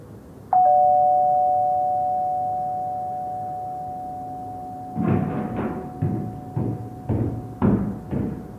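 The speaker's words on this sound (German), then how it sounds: "Langsam legt Levi seinen Finger auf die Klingel" Doorbell in an audio drama: a single sustained electronic ring that fades slowly over several seconds, followed by a series of muffled knocks or footsteps near the end.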